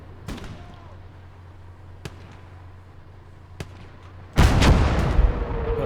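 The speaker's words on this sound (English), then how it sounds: "here we have another aircraft dropping a bomb, which is fairly successful also" A bomb dropped from an aircraft explodes in the World War II strategy game Gates of Hell. A few distant sharp cracks come first, then a loud, sustained blast roars and rumbles through the rest.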